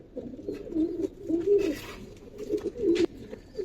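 Pigeons cooing in a Bangladeshi pigeon market stall with giribaz and coloured fancy pigeons, soft repeated low coos overlapping in a steady rhythm, close and moderately loud, with no talk.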